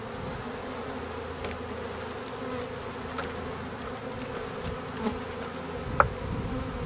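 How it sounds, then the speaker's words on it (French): A swarm of honey bees gathered in a small bucket gives off a steady, dense buzzing hum throughout, with a couple of soft knocks from the bucket near the end. "Voilà, on peut voir les abeilles sont dedans."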